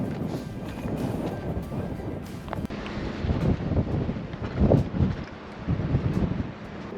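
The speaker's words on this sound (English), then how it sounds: "we are now in high winds" Strong high wind in Carlsbad, New Mexico buffets the microphone in continuous gusts, with louder surges partway through and rumbling low noise throughout; no voices.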